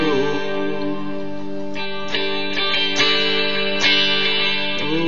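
An electric guitar with a clean tone and delay effect rings out sustained chords that blur into echoing repeats, playing steadily and alone for a few seconds.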